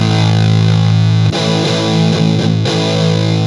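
An electric guitar runs through a Big Muff Deluxe fuzz pedal for a thick, heavily distorted tone with sustained chords and a few restrikes. It is loud, dense and continuous, with no voices.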